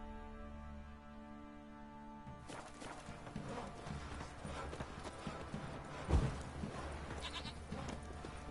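Roach the horse gallops in The Witcher 3, a rapid rhythmic clip-clop of hooves that begins a few seconds in and keeps a steady driving pace at close range, with a louder thud partway through.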